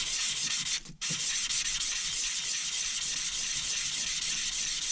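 Steady, continuous abrasive rasp of 1000-grit paper being rubbed by hand over a 3mm steel points cover for a Triumph Bonneville T140, close and loud with one brief pause near the start.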